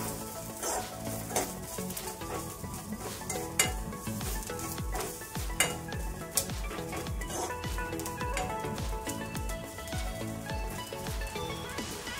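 A ground paste of onion and coconut roasts over medium-low heat for spicy masala brinjal, sizzling steadily while a spoon scrapes and stirs through the pan in repeated clicks and scuffs, close and continuous.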